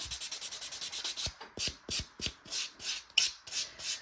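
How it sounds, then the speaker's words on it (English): Gel nails being buffed with a nail buffer give steady, rhythmic rasping strokes, close and crisp, repeating about twice a second without any talking. "I'm gonna buff them out really good"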